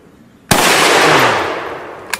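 A single loud K98 bolt-action rifle shot fired outdoors, a sharp crack followed by a long rolling echo that fades, with a faint click at the end.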